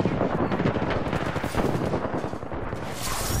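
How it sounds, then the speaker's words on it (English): Artillery and gunfire in the shooter game Apex Legends, a dense, continuous roar of rapid shots and blasts that stays loud and close without a break for its whole length, with no speech. "Artillery, everyone get inside."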